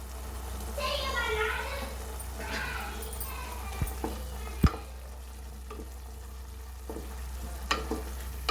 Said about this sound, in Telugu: రెండు నిమిషాల పాటు బాగా వేగనివ్వాలండి అల్లం వెల్లుల్లి పేస్ట్ని.